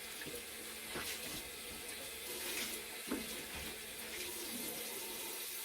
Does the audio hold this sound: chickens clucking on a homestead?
no